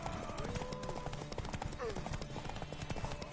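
Horse hooves clip-clopping in The Witcher III: Wild Hunt, a quick steady rhythm of hoof strikes at a gallop, close and continuous under game music and shouting voices.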